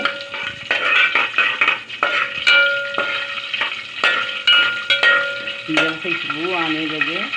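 Green cardamom seeds sizzling in hot oil for sweet jaggery rice, with steady frying hiss and rhythmic metal spoon stirring and scraping against the pot, close and loud.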